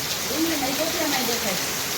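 Steady rain falls over a farm field with flooded vegetable beds, a dense, even hiss that holds across the whole stretch, with a faint voice-like murmur low beneath it.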